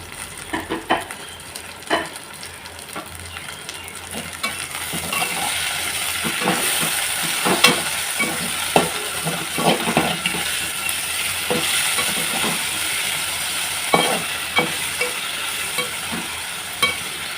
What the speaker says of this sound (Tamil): இஞ்சி பூண்டு பேஸ்ட் இஞ்சி பூண்டு வதங்கிக்கிட்டு இருக்கு